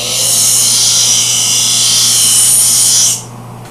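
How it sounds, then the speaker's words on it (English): A hand scraper rasps steadily across bare wood in a woodshop. The loud, continuous scraping runs for about three seconds, then stops abruptly. "When using a scraper like this, you really have to sort of sharpen it every 5 minutes or so"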